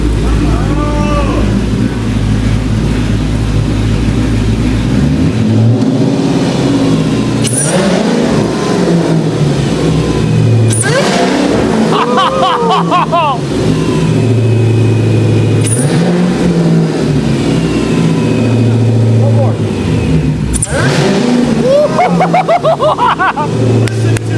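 A Hellcat-engined car revs hard several times, rising and falling in repeated loud bursts, with people talking and cheering between the revs.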